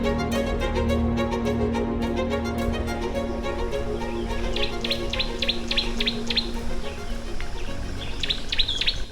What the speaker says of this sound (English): I'm sure you can hear the birds singing their songs all around me.